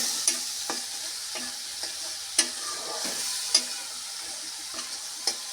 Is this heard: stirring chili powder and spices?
yes